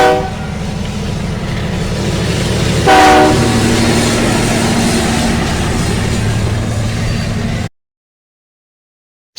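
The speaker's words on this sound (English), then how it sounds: "Electric train." An electric train rumbles past steadily with rail clatter, a loud horn blast sounding near the three-second mark before the noise cuts off abruptly.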